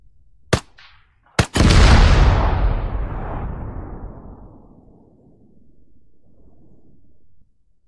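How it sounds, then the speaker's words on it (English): Gunfire and explosions in Arma 3, a military shooter: two sharp single shots, then a heavy blast that rolls and rumbles for several seconds before fading, followed by a low distant rumble. "We're hearing explosions from the other end of the town."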